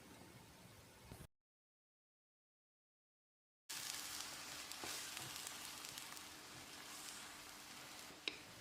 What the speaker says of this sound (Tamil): ஒரு 30-40 செகண்ட் இதை நல்லா ஃப்ரை பண்ணி விட்டுடலாம்.